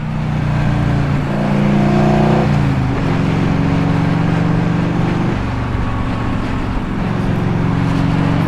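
A 1984 Harley Davidson Tour Glide motorcycle pulls away on a scenic road, its engine revving loud and close with a steady throbbing drone that rises and shifts pitch through the gears, no talking.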